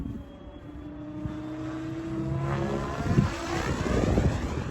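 A Blade 700 Fusion RC helicopter at full throttle gives a steady high-pitched rotor whine and buzz that swells louder as it passes, heard at a distance with some wind noise.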